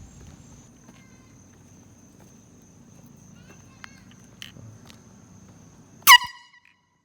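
A single short, loud air horn blast rings out abruptly near the end, preceded by quiet background rumble and faint movement noises, then stops dead.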